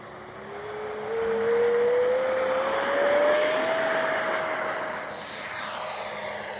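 A Freewing F-16 70mm electric ducted-fan RC jet makes a pass, its high whine rising in pitch as it approaches and swells in loudness, then easing off as it goes by.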